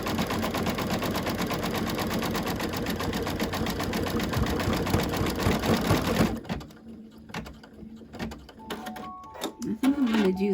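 A sewing machine stitches over a snowman quilt block through thick layers, running steadily and loud for about six seconds, then stopping, with only faint handling noises and scattered sounds afterward.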